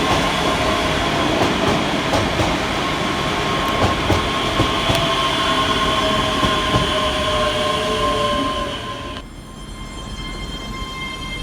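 A ScotRail class 385 passenger train arriving at Edinburgh Haymarket station rumbles steadily with rail noise and faint squeals, loud and close, then the sound drops off sharply near the end.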